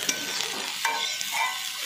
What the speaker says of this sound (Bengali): দিয়ে এবার একটু আমি ভালো করে এটা ভাজা ভাজা করে নিচ্ছি।